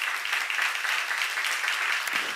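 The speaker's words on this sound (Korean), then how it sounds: "박수 한번 쳐봐요." A crowd claps together in dense, steady applause that holds at an even level throughout, during a church seminar.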